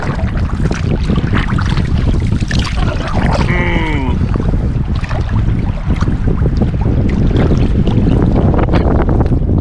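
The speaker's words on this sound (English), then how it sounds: "then the wind picks up" Strong wind buffeting outdoors on a wilderness lake from a small boat, a loud continuous roar of gusts and microphone rumble that stays close and unbroken throughout, with a brief creaking squeal partway through.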